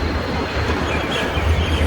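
A train rolls past on a line near a park, a steady low rumble with continuous rail noise filling the whole stretch at close range, with no voices.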